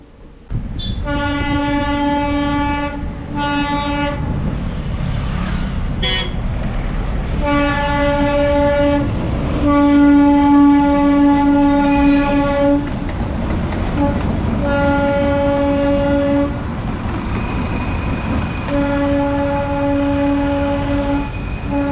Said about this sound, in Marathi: रेल्वे यायला लागली हो